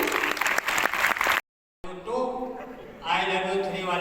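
An audience at a kavi sammelan poetry recital in Lucknow claps briefly and energetically. After a short silence, a voice speaks alone.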